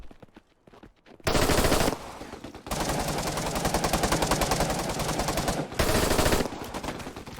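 Automatic rifle fire crackles in the video game Operation: Harsh Doorstop, loud, close bursts of rapid shots with a brief gap before a longer sustained stream and another burst near the end.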